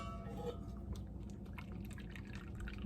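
Guinness stout poured into a measuring cup for a Jamaican Easter bun mix, giving a steady close liquid pour with fizzing, dripping splashes throughout, no voices.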